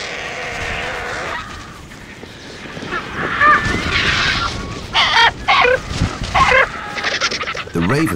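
Ravens calling beside vultures feeding at a carcass in Greek wild country, harsh croaking caws in a scattered series of bursts, fairly close, over a rough background of rustling and distant flapping.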